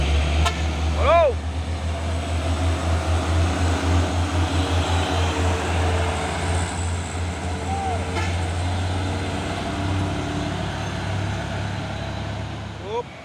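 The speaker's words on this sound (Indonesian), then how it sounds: "Masuk lagi 1 unit truk box Hino Jember Euro 4 ini." A Hino Euro 4 box truck rolls past on a road, a steady low diesel engine rumble that holds for many seconds with other traffic noise around it.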